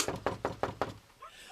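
Five firm, evenly spaced knocks strike a farmhouse door near Renfrew, close and distinct, followed by a brief quiet pause.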